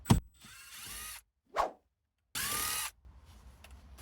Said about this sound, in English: take a T15, remove these 2 screws